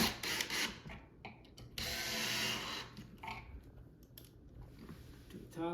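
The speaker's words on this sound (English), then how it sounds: "Install your screws." A power drill drives screws into the wood of a farmhouse shoe bench, with bursts of whirring and grinding separated by short pauses, close and moderately loud.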